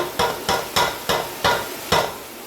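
Chana dal tipped into a pan over low heat and stirred, giving six evenly spaced scraping strokes against the metal with a faint sizzle between them.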